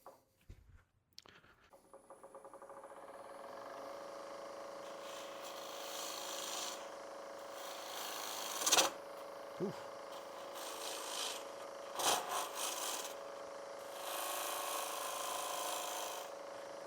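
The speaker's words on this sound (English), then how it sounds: "End grain hollowing like this, a good scraper is very efficient, and you actually get a surprisingly good cut." A scraper hollowing the end grain of a wooden honey pot on a lathe, giving a steady close rasping cut over the spinning hum with a few brief louder scrapes and knocks; no one speaks.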